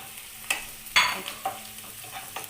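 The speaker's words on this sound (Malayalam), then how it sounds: "ഇതുകൂടി ഇട്ട് നല്ലപോലെ ഒന്ന് സോട്ട് ചെയ്തെടുക്കാം" Chopped ginger and onion are sautéed in a pan, with a quiet, low sizzle broken by several sharp taps and scrapes of a spoon stirring against the pan.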